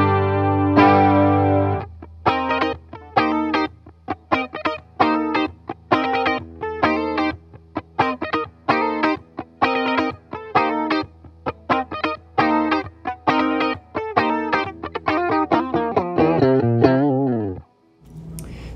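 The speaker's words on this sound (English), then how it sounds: "So now you can see the chorus is not as heavy as it was" An electric guitar through a chorus pedal set to full intensity plays rhythmic chord stabs with a shimmering, slightly gritty tone and short gaps between strokes, then ends on a sustained chord that fades.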